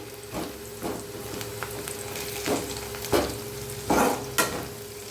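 Chicken 65 thokku sautés in a pan, a soft steady sizzle punctuated by several distinct scraping stirs of a spatula, close up, with no voices.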